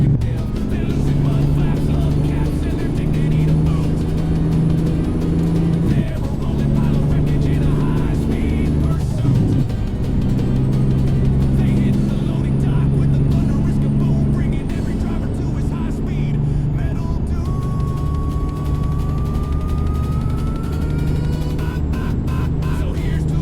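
Steady engine drone of a B909 truck driving in American Truck Simulator, loud and continuous with low harmonic hum and a slight pitch dip midway, with speech over it.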